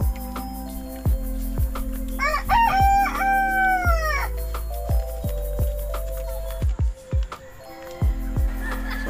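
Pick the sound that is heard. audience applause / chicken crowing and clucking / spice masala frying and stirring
chicken crowing and clucking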